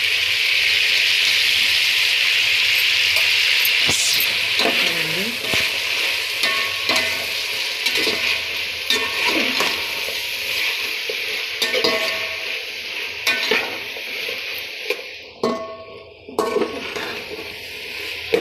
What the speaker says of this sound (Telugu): ఇప్పుడు క్యాప్సికమ్ టమాటా వేసేద్దాం.